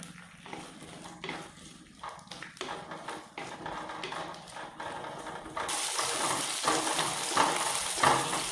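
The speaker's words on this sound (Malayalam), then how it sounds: "ഇത്രയും കൂടി നമുക്ക് ഈ എണ്ണയിലേക്ക് ഇട്ട് കൊടുക്കാം ആ ചെറിയ ഉള്ളി മുതുമനായിട്ട് ചേർത്ത് കൊടുക്കുമ്പോൾ അതിൻ്റെ ടേസ്റ്റ് വേറെ തന്നെയാണ് കേട്ടോ മുറിക്കേണ്ട ആവശ്യമൊന്നുമില്ല നമുക്ക് നന്നായിട്ടൊന്ന് വഴറ്റിയെടുക്കാം" Whole shallots, garlic and curry leaves fry in hot oil, giving a continuous close sizzle that swells louder partway through, with occasional stirring clatter.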